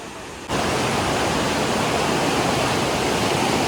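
Mountain stream in a Rize boxwood forest rushing steadily as broadband water noise, loud and close, beginning abruptly after a brief quieter lead-in and continuing without talk.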